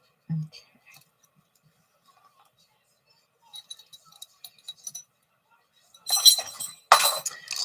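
Heavy metal zipper pulls clink in a few short bursts during sewing of a modified Twilight Traveler bag, with sparse light taps first and louder jangling clusters near the end.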